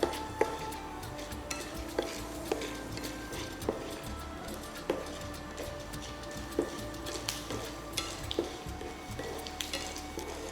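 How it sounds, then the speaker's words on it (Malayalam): Urad dal and chana dal frying in hot oil in a pan while being stirred, with a steady close sizzle and regular scraping clinks of a spoon against the pan throughout. "ഇത്രയും ഐറ്റം നമുക്ക് എന്ത് ചെയ്യണം, നല്ല ഗോൾഡൻ ബ്രൗൺ ആവണ വരെ നന്നായിട്ടൊന്ന് മൂപ്പിച്ചെടുക്കാം കേട്ടോ."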